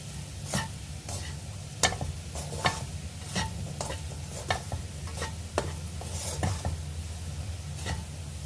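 Cauliflower and peas stirred with mango powder in a pan, with regular sharp spatula strikes and scrapes against the metal about every half second over a low, steady sizzle, close and without talk.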